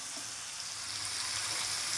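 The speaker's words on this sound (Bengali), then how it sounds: "আবার লবণটা দিয়ে ভাজা হোক।" Chicken pieces with salt added fry in a pan for a beet chicken dish, giving a soft, continuous sizzle that stays fairly faint and steady throughout.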